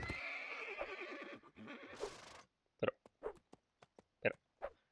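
A horse neighing in the Mount & Blade Warband video game, one long whinny followed by a run of short, sharp snorts and hoof-like knocks, close and clear with no talking.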